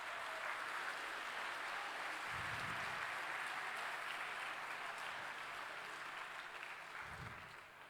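Steady, even applause from an audience at a student engineering awards ceremony fills the whole stretch, distant and continuous, with a couple of low thumps underneath.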